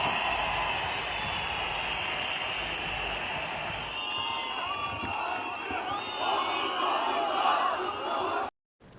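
A large crowd of protesters gathered outside Istanbul's municipal headquarters keeps up a continuous roar of shouting and chanting, with voices rising and falling and cheers breaking out, and it stops abruptly near the end.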